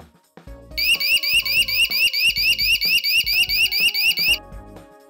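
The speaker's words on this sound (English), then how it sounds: "the main alarm will sound." A DorWatcher open-door alarm's main alarm blares loud and close, a rapid pulsing electronic warble repeating steadily for several seconds before cutting off.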